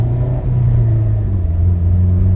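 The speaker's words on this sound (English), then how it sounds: "So we'll go second gear." A Honda Civic Si FA5 with a Flashpro tune accelerates in second gear, its engine droning loud and steady with a low rumble and a gradually rising pitch, heard from inside the car.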